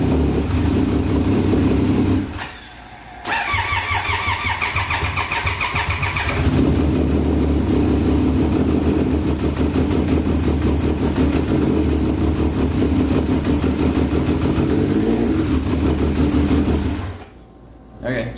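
A neglected motorcycle engine that hasn't run in years idles steadily and loudly with a slightly clacky, uneven rhythm, briefly dropping out near the start and cutting off at the end, with a voice talking over part of it.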